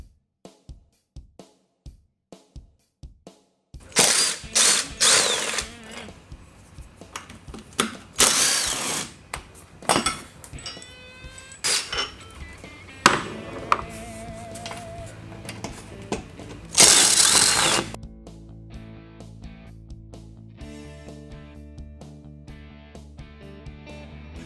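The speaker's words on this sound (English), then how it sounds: "Now remove the 2 bolts from each side, holding the seat back in place." Bolts holding the seat back of an EZGO RXV golf cart are taken out with a power tool, giving repeated whirring and ratcheting bursts. Metallic clunks and a few louder impacts follow, then the tool falls quiet and a faint hum remains.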